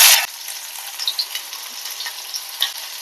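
Tempering spices fry in hot oil for a brinjal curd chutney, starting with a loud burst of sizzle as they hit the pan and then settling into a steady crackle with small pops.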